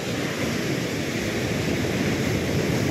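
Mediterranean Sea waves wash steadily near a shore by a plant, a continuous loud broadband surf roar with no distinct breaks and no voices.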